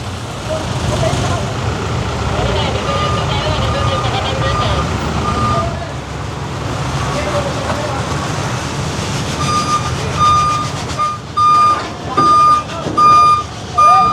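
A tow truck hauling a car on a city avenue sounds its reversing beeps, a regular series of sharp tones repeating over loud engine and street traffic noise, with people talking nearby.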